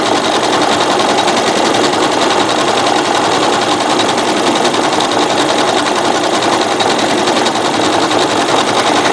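Pieces of rope are fed through a sewing machine and stitched together for a mosaic rope bowl. The motor runs with a loud, dense, unbroken whir close by, steady for the whole stretch and with no voices.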